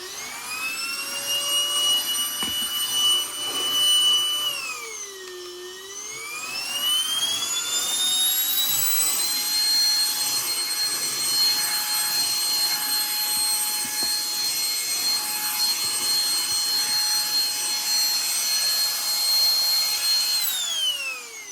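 A Beldray cordless handheld vacuum cleaner whines steadily and loudly close by, its motor pitch dipping briefly early on before settling into a constant high drone for the rest of the run, with no talking.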